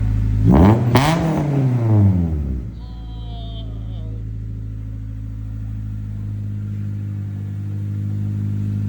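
A Honda Civic EP3 with Circuit Werks headers and a Skunk2 MegaPower exhaust revs hard twice, rising and falling in pitch with a deep, throaty exhaust note, then settles into a low, steady idle rumble.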